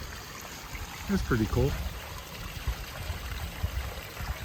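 A mountain spring near a beaver swamp in Pennsylvania trickles and flows in a steady, close wash of water while someone speaks briefly over it.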